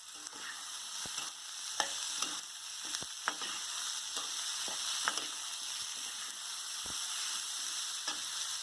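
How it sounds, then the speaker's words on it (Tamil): Turkey berries with stems removed being sautéed with softened tomato in a pan, a close steady sizzle broken by sharp spatula scrapes and taps at irregular intervals. "காம்பு நீக்கி வச்சிருக்கிற சுண்டைக்காவை போட்டு நல்லா வதக்கிக்கணும்."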